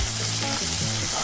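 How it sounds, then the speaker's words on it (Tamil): Finely chopped onion sizzles and fries in hot oil for a soya gravy, a dense, continuous crackle close up with no voices. "ஒரே ஒரு பெரிய வெங்காயத்தை பொடியாக கட் பண்ணி சேர்த்துக்கிறேன்"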